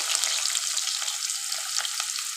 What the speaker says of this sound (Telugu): ఇప్పుడు నేనైతే ఆనియన్స్ యాడ్ చేసుకున్నాను